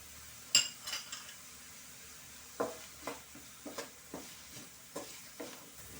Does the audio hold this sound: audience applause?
no